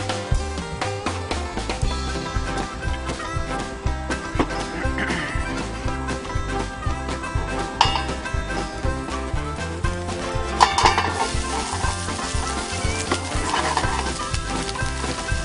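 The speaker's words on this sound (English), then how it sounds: "Time to go with some peppers, a little bit more oil." Sliced peppers added to a hot pan with a little more oil after eggplant, sizzling steadily and loudly throughout with rhythmic stirring clatter and scraping close up, no speech.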